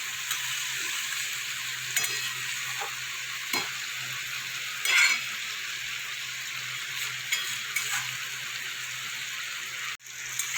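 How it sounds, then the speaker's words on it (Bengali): Ground spices with Kashmiri chilli powder fry with onions for a Bengali egg curry, a steady close sizzle broken by occasional spatula scrapes and one brief louder burst of spattering, with no voices. "ভালো করে এটাকে গুঁড়ো মশলাটাকে ভালো করে সাথে কষিয়ে নেব"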